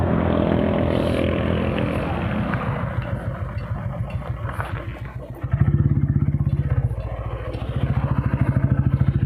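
A Bullet motorcycle engine, due for a chain tightening, thumps with an even, loud beat at idle and then rises to a heavier, pulsing throttle midway before settling back to a steady thump.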